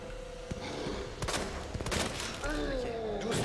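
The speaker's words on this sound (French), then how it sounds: "Ok, j'ai visé ton œil, monsieur Birkin, attention" Gunfire in the video game Resident Evil 2 during a boss fight with William Birkin, several sharp shots spread over a few seconds amid game noise and effects.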